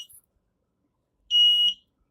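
A laser tripwire alarm built from an electronic robotics kit gives one loud, steady electronic beep lasting about half a second, set off after a short quiet stretch.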